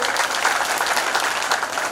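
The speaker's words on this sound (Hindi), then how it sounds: "पंकज पासवान जी ताली बजाइए के लिए" A crowd at a political rally applauds continuously and loudly, producing a dense, steady clatter of many hands clapping.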